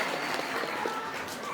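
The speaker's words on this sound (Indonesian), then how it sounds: "Beri tepuk tangan yang meriah" Dense, steady applause from an audience at a Maulid Nabi commemoration gathering, a continuous wash of many hands clapping with no distinct voices.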